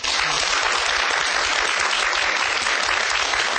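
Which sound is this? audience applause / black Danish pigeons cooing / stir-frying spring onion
audience applause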